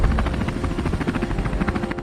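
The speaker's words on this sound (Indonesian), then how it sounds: "US Navy mengerahkan helikopter Seahawk untuk terbang rendah di atas skoci" A US Navy Seahawk helicopter flies low over a lifeboat at sea, its rotor beating in a fast, steady loud thump close by with no voices.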